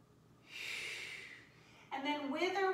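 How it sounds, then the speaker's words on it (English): One deep, audible breath is drawn in through the nose during a flexibility and mobility stretching exercise, a soft breathy rush lasting about a second, followed by a voice beginning to speak. "One more breath in."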